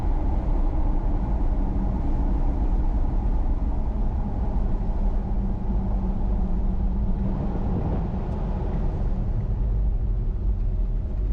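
Steady low rumble of an LS2 V8 engine driving a 79 series ute fitted with a 6L80e transmission, a continuous loud drone with road noise from inside the cab and no talking.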